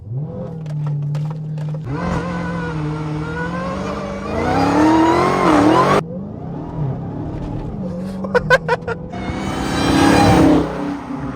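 2023 Dodge Charger SRT Hellcat Redeye accelerating hard in track mode with launch control, loud supercharger whine and booming exhaust rising through the gears in repeated sweeping surges, with gear-change breaks between them.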